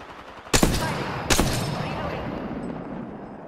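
Two sharp gunshots ring out in Apex Legends, close and loud, each trailing into a long decaying echo.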